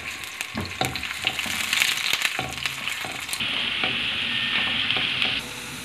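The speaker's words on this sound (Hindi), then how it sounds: "अब इसमें मैं डाल रही हूँ प्याज। प्याज को हम थोड़ा सा ब्राउन करेंगे।" Onions sizzle and fry in hot oil in a pan while being stirred, with steady crackling broken by repeated scraping and clattering strokes, close and fairly loud, and no talking.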